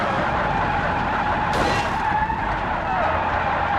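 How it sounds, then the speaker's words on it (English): A car rolls on flat tires in the driving simulator game BeamNG, with a continuous engine and road drone and a short skidding tire scrub in the middle, close and steady throughout. "The tires have gone flat."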